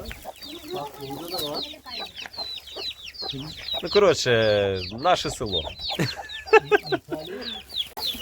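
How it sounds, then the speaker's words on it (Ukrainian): Chickens cluck and chirp steadily at close range, with a person talking over them and a brief louder squawk midway. "Ціпочки ловлять маленькі"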